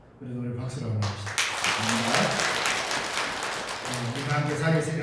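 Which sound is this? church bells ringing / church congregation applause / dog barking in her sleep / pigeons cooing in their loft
church congregation applause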